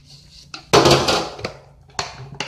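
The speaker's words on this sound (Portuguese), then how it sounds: "Vou lavar a louça." Dishes being washed at a kitchen sink: loud clattering of plates and utensils with a rushing splash of water, followed by a few sharp clinks and knocks.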